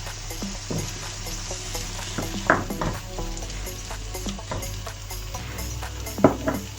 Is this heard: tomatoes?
yes